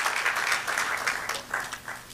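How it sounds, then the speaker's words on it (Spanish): A church congregation claps for the Lord during a service, a dense wash of applause at moderate distance that holds steady then tapers slightly over a couple of seconds. "Dale otro aplauso al Señor."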